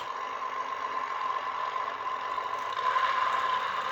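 An Axial Capra 1.9 RC truck's sound module hums steadily with a simulated idling motor, a constant mid-pitched whine, rising slightly in intensity near the end.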